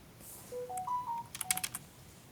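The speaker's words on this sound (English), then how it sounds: "that's a notification on my tablet that the printer finished" A tablet chimes a short electronic notification to say a 3D printer has finished: a rising run of clear tonal beeps followed by a quick cluster of bright chirps, close and fairly quiet in a still room.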